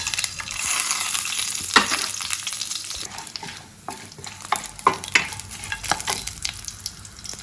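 Whole spices (star anise, marathi moggu, cinnamon stick, bay leaves, cloves and cardamom) sizzle in hot oil in a pan, a steady close frying hiss broken by sharp crackles and spoon stirring.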